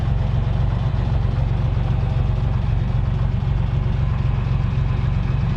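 An engine idles low at roughly 600 RPM, giving a steady, close, even rumble with a faint knocking texture that holds without change and has no talk over it.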